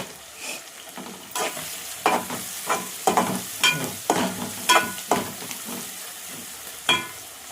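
Chicken fries in a pan while a spoon stirs it, with a steady sizzle under a series of scraping stirs, close and fairly loud.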